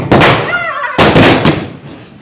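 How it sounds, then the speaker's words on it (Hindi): Diwali firecracker string (ladi) bursting in a neighbourhood square, a loud dense crackle of rapid pops in two close bursts, with voices faintly underneath. "ये देखो धूम मचा दी ना पटाखों ने हमारे चौक में"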